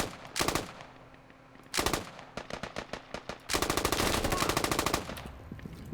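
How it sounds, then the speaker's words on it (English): Bursts of automatic gunfire from suppressing fire in the military shooter game Squad, with short rapid volleys, a lone shot, then a sustained loud burst near the end. "As you're retreating, suppress fire towards enemies' locations"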